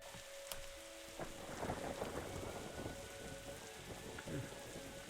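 Heavy rain drums on a rooftop in The Darkside Detective video game, with rolling thunder underneath and a dense, steady downpour, with no voices.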